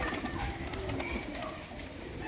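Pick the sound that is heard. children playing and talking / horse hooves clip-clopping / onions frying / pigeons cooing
pigeons cooing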